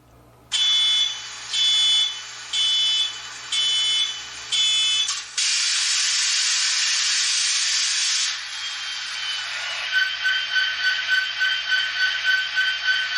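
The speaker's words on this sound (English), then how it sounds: "So you hear the warning bell or buzzer." An HO-scale MTH SD70ACe model locomotive startup: an electronic warning buzzer sounds in five steady pulses, then a loud hissing rush of air takes over, followed by a rhythmic chuffing hum.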